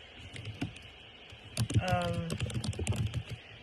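Fingers patter over a computer keyboard in quick, close bursts of clicks that grow busier partway through, with a faint voice in the background.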